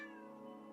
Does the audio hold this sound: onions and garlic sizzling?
no